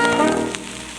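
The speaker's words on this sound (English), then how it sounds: "Oh dear, Chicken Face, it is raining" Rain sound effect from a children's record, a brief steady hiss of falling rain with a tonal musical layer underneath, fading slightly.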